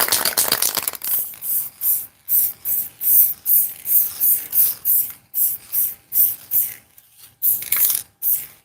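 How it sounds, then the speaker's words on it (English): Aerosol spray paint can fired in a rapid series of short hissing bursts, close and loud, with brief gaps between puffs, preceded by a longer initial spray. "Well, it's not very controlled spray."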